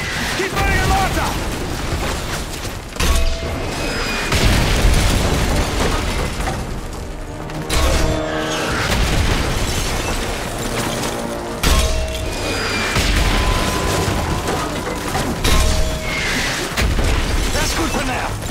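Mortar shells burst repeatedly in a village battle in Call of Duty Modern Warfare 3 (2011), with loud booming impacts every few seconds over a bed of gunfire and combat noise, while voices speak in between.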